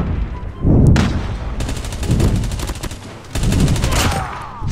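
Rapid automatic gunfire in the mobile shooter game Call of Duty Mobile, loud, close bursts of repeated shots in quick succession with short pauses between volleys.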